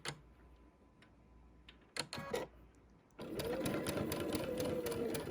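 A home sewing machine stitching quilt pieces with a 2.5 stitch length and quarter-inch seam: a few scattered clicks and handling knocks, then from about three seconds a steady fast whirring run of stitches, close and clear.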